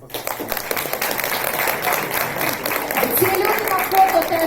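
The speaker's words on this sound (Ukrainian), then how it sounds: "Ці оплески для вас." At a certificate-award ceremony, an audience claps in a broad, continuous wash that grows slightly louder toward the end, with people talking over it throughout.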